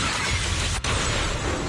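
Glass shatters in a video game effect, a loud bright smash filling the whole clip with crashing debris, broken only by one brief sharp gap midway.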